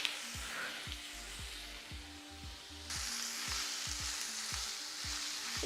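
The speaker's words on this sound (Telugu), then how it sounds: "ఈ తోఫుని కొంచెం ఫ్రై చేసుకుందాం." Tofu fries in a pan with a steady, quiet hiss of oil, broken by a series of sharp taps and clinks from the utensil against the pan; no talking.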